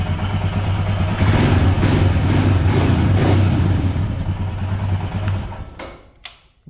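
A Royal Enfield motorcycle idles close by with a steady low thumping beat, holding level for several seconds before the engine shuts off and fades to a few faint clicks.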